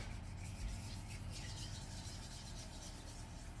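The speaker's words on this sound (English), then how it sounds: "I'm just gonna use my 180 grit nail files to just file it down really smooth" A 180 grit nail file rubbed back and forth over hardened resin on a craft badge, producing a soft continuous rasping scrape, faint and close with no talk.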